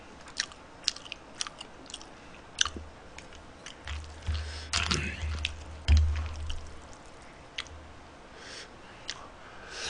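Crunchy fried pork cutlet, a giant tonkatsu, is bitten and chewed close to the mic, with several sharp crisp crunches and a louder chewing burst in the middle.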